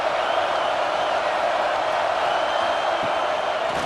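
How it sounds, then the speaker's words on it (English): Stadium crowd in a College Football 26 simulation of Georgia vs Alabama, a steady dense roar of many voices holding at an even level throughout the final possession, with no distinct cheers or breaks. "The crowd now trying to make a difference here in the final possession"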